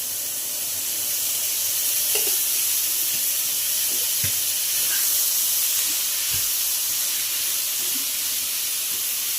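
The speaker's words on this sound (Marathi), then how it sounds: "तर थोडंसं तेल टाकते वरून म्हणजे भाजतं ना लवकर" Hot oil sizzles steadily around prawns frying for a Maharashtrian prawn masala curry, a constant bright hiss with a few faint clinks of a utensil against the pan.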